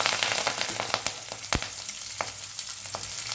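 Curry leaves crackle and sizzle in hot oil with cumin seeds, a dense steady fry broken by sharp spattering pops, close and fairly loud with no voices.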